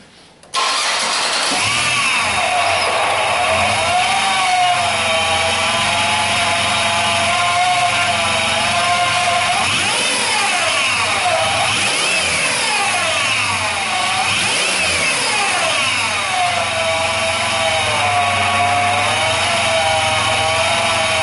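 A Buick LeSabre with a failing mass airflow sensor cranks and catches, then idles steadily and loudly for about twenty seconds, with a few brief revs rising and falling partway through.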